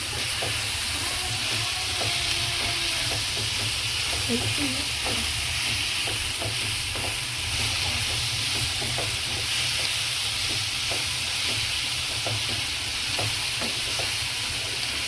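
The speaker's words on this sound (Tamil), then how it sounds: "இது நல்லா வதங்கட்டும்" Roasted gram and chutney ingredients sauté in a hot pan with a steady, dense sizzle and hiss, joined by light scraping stirs, loud and continuous throughout with no talking.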